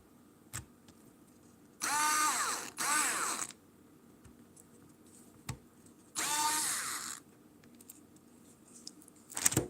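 A power driver drives screws into a workpiece in three short whirring bursts of a couple of seconds each, close and fairly loud, separated by quiet gaps with small handling clicks.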